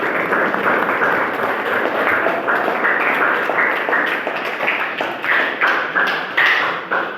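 Sustained clapping from a class, a loud continuous patter of many hands applauding together for several seconds after a group presentation.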